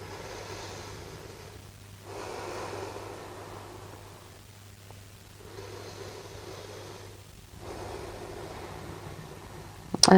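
Slow, steady breathing during a full-body stretching routine, with three or four long airy inhale-exhale swells in an even rhythm, close and soft over a faint steady hum.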